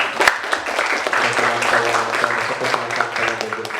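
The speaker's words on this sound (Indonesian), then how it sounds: "boleh kalian kasih aplaus dulu" Classroom audience applauding after a group presentation, a dense, fairly loud patter of many hands clapping together, mixed with voices talking over it.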